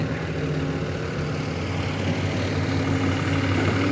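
A Doosan DX200A excavator at a pond-digging site runs its engine in a steady, low, rumbling hum that stays even throughout, at moderate distance, with no talk.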